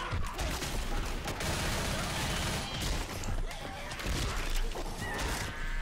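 Gunfire in Left 4 Dead, with repeated shotgun blasts and crashing impacts over a loud chaotic game mix, recurring at irregular intervals, while players talk underneath.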